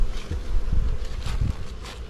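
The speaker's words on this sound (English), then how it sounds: "Lots of bees." Honeybees swarm at their hive after a winter cold spell, a loud, close, dense buzz that swells and fades as individual insects pass the microphone, with no voices.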